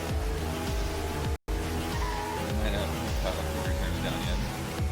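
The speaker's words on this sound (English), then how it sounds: "this is a really hard trailer to tell because it's just crazy car noises" Race cars roar through a video game trailer shown at E3 2015, with dense engine noise and tire squeals running loud and steady for about five seconds. A brief dropout breaks it, and voices mix in underneath.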